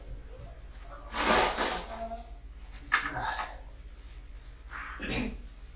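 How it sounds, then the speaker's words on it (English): A person blows their nose close by: one long, loud, breathy blast followed by two shorter, fainter bursts, with quiet pauses between. "I gotta blow my nose."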